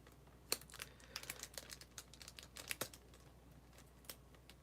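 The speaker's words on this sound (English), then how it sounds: "Let's take the tape off once again." Tape peeled off a Pokemon card package with a bent promo card, heard as quiet crinkling and tearing crackles in scattered bursts, with a few sharper pulls standing out against a low, steady background.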